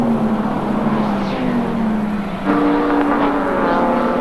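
Production race cars at Amaroo Park in 1989 roar continuously at high revs, a steady engine drone with a sharp rise partway through as a car closes in and passes, loud and near, with no talk over it.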